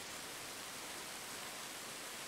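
Steady dense rain hiss from the weather effects in the video game Arma Reforger, an even broadband wash without breaks and no talk.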